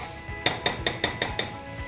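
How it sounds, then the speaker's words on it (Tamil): Mutton fried in a pot for biryani is stirred with a metal spoon, making six evenly spaced clanks against the pot over a low sizzling background, close and fairly loud. "இப்போ இதில் நம்ம வந்து கறி சேர்த்துக்கலாம்."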